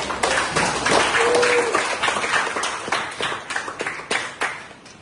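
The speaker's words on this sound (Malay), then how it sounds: "Beri tepukan" A classroom group applauding during a lesson, a dense patter of many hands that holds steady, then thins into scattered individual claps as it fades.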